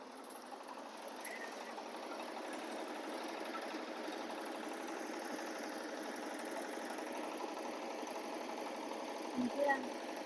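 Steady mid-pitched drone of a Thai rice threshing machine's engine running through a field harvest, constant and unbroken from a moderate distance, with a brief faint clatter near the end.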